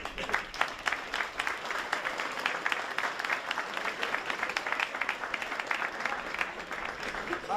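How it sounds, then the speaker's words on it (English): A crowd applauds the Carrickmacross team after the All Ireland Senior B Final, a steady, moderately quiet wash of clapping that runs the whole stretch with no pauses. "So for Carrickmacross, big round of applause."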